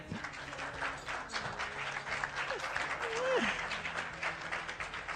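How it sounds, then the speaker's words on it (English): Warm audience applause at the Cannes Film Festival for a trio of film directors, a dense, sustained wash of clapping with a few voices faintly calling out underneath. "Warm applause again."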